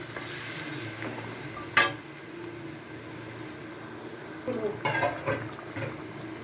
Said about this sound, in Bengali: মাংসটা এবার কষাবো, মশলা দিয়ে ম্যারিনেট করে চিকেন মধ্যে